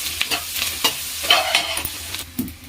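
Onion, garlic and curry leaves sauté in hot oil with a steady sizzle, broken up by repeated scraping strokes of a spoon stirring the pan, close and fairly loud.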